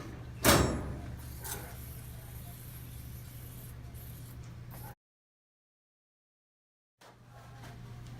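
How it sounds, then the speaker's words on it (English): Disinfectant cleaner is sprayed onto a veterinary cage in one loud hissing burst, then a weaker second spray follows. A low steady hum runs underneath, with a short silent gap later. "So how you clean the cage is we spray it and let it sit for 10 minutes."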